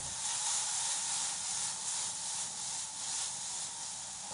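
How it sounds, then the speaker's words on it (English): Peppers and onions sizzle steadily in a hot pan, a close, continuous broadband hiss with gentle swells and no voices. "So what we want to do with these onions and peppers is really let them cook down and caramelize."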